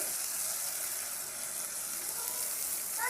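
Ginger garlic paste sautéing in a pan while cooking a green gram and banana stem kootu, a steady broadband sizzle running evenly throughout, close and moderately loud, with no talk.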